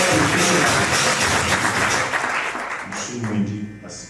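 Guests at a civil wedding ceremony applaud in a crowded room, a dense burst of clapping that swells at the start and gradually thins out, with voices mixed in.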